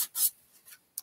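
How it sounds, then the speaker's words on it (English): Furniture is sanded by hand ahead of milk painting, with a few short, close rasping strokes that start and stop, the longest near the start and a brief one at the end. "if I'm sanding too loud"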